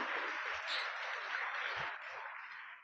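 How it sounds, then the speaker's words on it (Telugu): A church congregation at a Sunday service applauds to praise God, with a broad, steady wash of many hands clapping together that eases slightly toward the end. "గట్టిగా చప్పట్లు కొట్టి ఆ దేవదేవుని స్తుతించుదాం దేవుని బిడ్డలారా"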